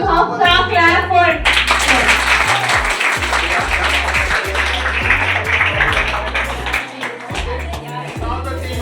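Students at a school Seerat-un-Nabi quiz competition applaud the winning team with a loud, sustained burst of clapping that fills the room, over a low background hum and some voices.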